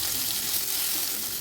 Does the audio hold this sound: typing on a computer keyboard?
no